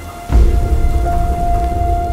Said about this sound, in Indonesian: Lalu, peristiwa selanjutnya datang badai dan hujan yang mengerikan.